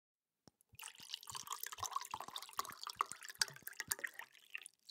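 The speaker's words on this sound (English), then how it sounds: "Let me pour you a drink, friend." A drink is poured at a tavern bar: a steady liquid stream with splashing and small drips runs for several seconds at close range, with no voices.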